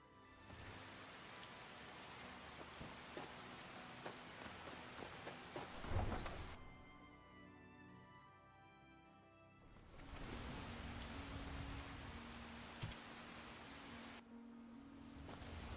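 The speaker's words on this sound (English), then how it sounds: "Let's clear the rain, and we'll head over to the ship." Steady rain hisses in the Skyblivion video game, a dense wash of falling water with a low rumble, cutting out briefly twice before resuming at similar loudness.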